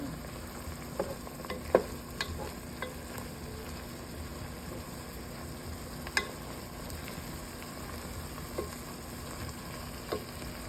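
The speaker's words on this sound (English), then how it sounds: "So we have ground beef browned in the pot, and I just put in some onion. Stir that around." Browned ground beef and onion being stirred in a pot for hot dog chili, a soft low sizzle with sporadic spoon clicks and scrapes against the metal.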